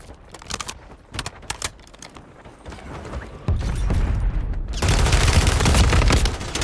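Gunfire in the video game Warzone 3 bursts out in sharp rapid shots, then grows into dense sustained firing with mechanical clatter, loud and close.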